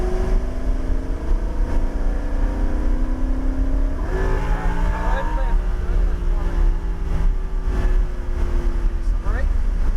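A car accelerates around a cone-marked driving course, its engine note rising and holding steady with bursts of revving, while people talk over it.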